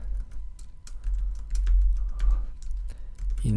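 Computer keyboard typing while entering text in Photoshop: a run of distinct, irregular key clicks at close range over a low steady hum.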